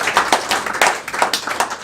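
A short burst of clapping from a small group, steady and fairly close, with no voices over it.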